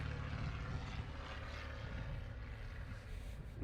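A small single-engine propeller aircraft drones steadily overhead near a baseball field during a championship game, a loud continuous engine hum with no break across the whole stretch.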